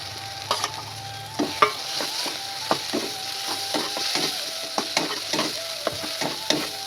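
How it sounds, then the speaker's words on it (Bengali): Peeled, ground shrimp paste sizzles in a pan in a village home kitchen, a steady soft fry broken by irregular scraping clicks of a utensil stirring it, close and alone. "চিংড়ি মাছটাকে একটু ভাজা ভাজা করে নিতে হবে।"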